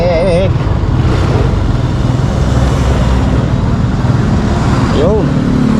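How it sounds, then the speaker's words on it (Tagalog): Cars and motorcycles are stuck in a traffic jam, giving a dense steady roadway rumble with passing engines. Horns warble briefly at the start and near the end, and voices are faintly audible underneath. "Nako, traffic nga oh."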